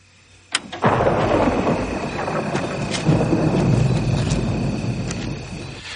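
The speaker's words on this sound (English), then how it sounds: "I love how we're hearing the thunder crash, the lightning, the tensions rising, the storms coming" Thunder cracks sharply in a film's storm scene, then rolls into a long, loud rumble with further crackling strikes over a steady roar of rain.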